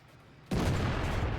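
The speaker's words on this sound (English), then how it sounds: "Now the KV-2 on the long shot for the bishop." A KV-2 heavy tank's cannon fires a long-range shot in World of Tanks, a sudden loud boom that breaks a quiet lull and rolls on into a sustained rumbling tail.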